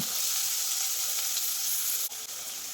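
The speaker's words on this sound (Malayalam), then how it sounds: "ഒരു വലിയ തക്കാളി ഇതുപോലെ നേരിയ രീതിയിൽ കട്ട് ചെയ്തെടുത്തിട്ടുള്ളതാണ്, അതുകൂടി ഇട്ട് കൊടുത്തൊന്ന് വഴറ്റി കൊടുക്കാം" Sliced tomato sautéing with onion, garlic and ginger in a pan, a continuous close sizzle with a couple of light utensil knocks near the end.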